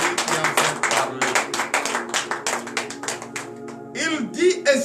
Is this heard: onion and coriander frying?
no